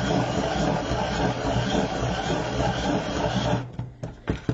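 A continuous grinding, rasping scrape of a colored pencil being sharpened in a pencil sharpener, steady for several seconds, then breaking into a few short scratchy bursts as it stops.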